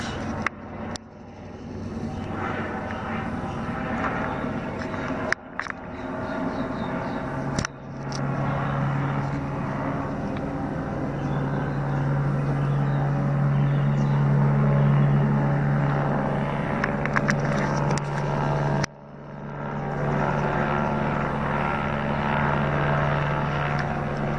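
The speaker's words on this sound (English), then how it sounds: "Here's a helicopter circling my house." A helicopter drones continuously at a distance, its rotor hum swelling and fading slightly as it moves around, with a few brief clicks and gaps.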